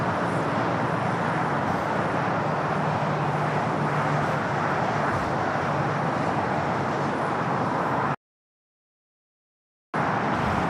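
Boeing 787-8 Dreamliner taking off from the north side at LAX, a loud continuous broadband jet roar that cuts out briefly near the end, no talk.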